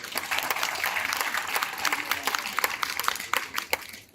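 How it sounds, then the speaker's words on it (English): Audience applause at the Namibian Literature Festival, steady clapping from a seated crowd that fills the hall for several seconds with scattered sharper claps. "Give her a round of applause."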